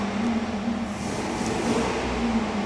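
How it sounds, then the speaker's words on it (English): Idling engine of a classic Riley Gamecock car at an October classic car auction preview, a steady low mechanical hum running on throughout with no speech. "Sounds like the little Riley's running over the way, the Riley Gamecock."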